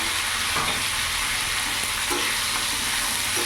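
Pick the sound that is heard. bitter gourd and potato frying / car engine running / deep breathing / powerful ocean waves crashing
bitter gourd and potato frying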